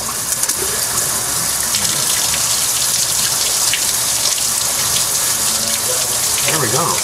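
Water gushes loudly and continuously out of an old car's heater core during a flush, a steady close splashing spray that barely changes, with a voice briefly heard near the end.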